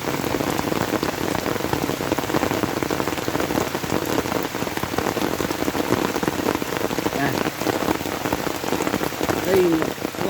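Steady rain falling on surfaces outdoors in the rural Philippine countryside, a dense continuous patter of drops, fairly close and even in loudness, lasting throughout with no pauses.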